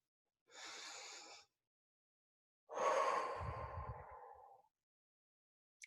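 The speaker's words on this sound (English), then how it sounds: "I would like all of us to take one deep, intentionally calming breath" One slow, deep breath: a close, airy inhale of about a second, a short pause, then a longer, heavier exhale trailing off over nearly two seconds, with no talk.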